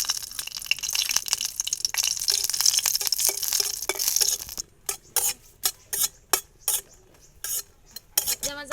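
Chillies fry in oil in a pan for egg bharta, first as a bright, continuous sizzle. Then come a series of short, separate bursts of stirring and spattering, close and fairly loud, with no talk.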